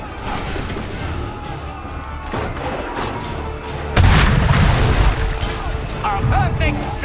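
A cannon shot booms loudly in the battle against redcoats in Assassin's Creed 3, rising over continuous rumbling combat noise with distant gunfire and voices in the background.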